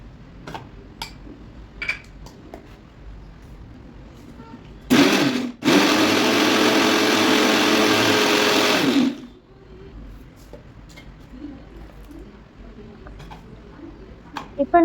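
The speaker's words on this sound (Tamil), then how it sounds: "வெங்காயம் வதங்கி வர கேப்பில் நம்ம ஆல்ரெடி எடுத்து வச்சுருக்கிற 3 மீடியம் சைஸ் தக்காளியை அரைச்சி எடுத்துக்கலாம்." Mixer grinder blending three medium tomatoes, a loud, harsh motor whir with a brief start-stop pulse, then about four seconds of steady grinding that cuts off abruptly, framed by quiet kitchen clatter.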